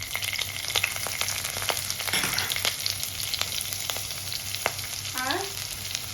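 Chopped garlic and onion fry in oil with whole cumin and green chili, a dense close sizzle and crackle with scattered pops and a quick spoon scrape, no talking.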